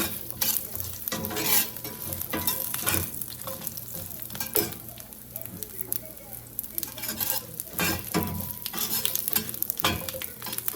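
Byadgi chili and garlic frying in a pan for a Mangalorean clams sukka, with a steady loud sizzle and repeated scraping stirs of a spoon against the pan, no voices.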